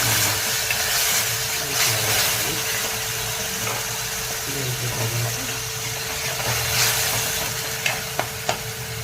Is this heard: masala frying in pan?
yes